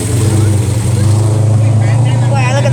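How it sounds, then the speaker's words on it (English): A muscular car's engine idles and rumbles at a street car show, a deep steady throb that stays loud and close, with people talking over it. "We heard this thing start up."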